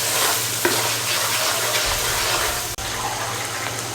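Chili chicken with soy sauce stir-frying over high heat in a pan, a continuous loud sizzle with scraping stirring, steady throughout with one brief dropout, no talk.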